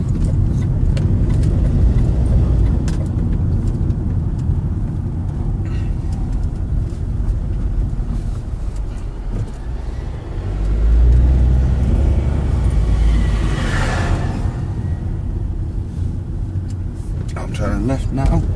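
A car drives along a road near Bo'ness and turns around, its engine and tyre rumble steady and close from inside the cabin, swelling briefly midway, with someone talking over it throughout.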